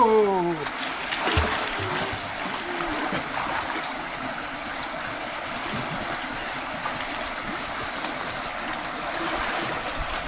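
Cold water splashes and rushes in a continuous, fairly loud wash that stays steady throughout, with a brief voice near the start.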